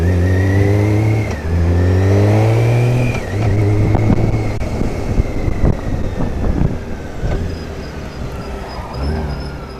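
A motorcycle is shifted through its gears without the clutch, the engine revving up and dropping in pitch at each gear change in a repeating rise-and-fall pattern, loud and close with wind noise, no talking.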